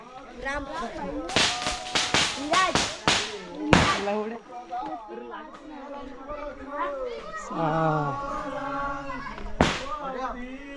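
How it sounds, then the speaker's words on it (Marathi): Firecrackers set off by boys at an outdoor Tulsi Vivah wedding celebration in Konkan, a rapid string of sharp loud cracks early on and one more bang later, amid children's chatter and voices throughout. "इकडे पोरं फटाके वाजत आहेत"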